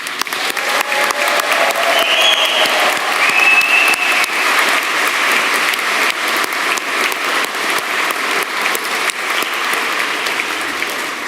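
Audience at an afternoon university graduation ceremony applauding graduates, a full, sustained round of clapping from a large hall with faint cheers mixed in.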